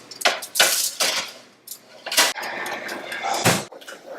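Kitchen oven door opened and a pork tray slid onto the rack, with sharp metallic clanks, a scraping slide and a final thud of the door closing, close and fairly loud.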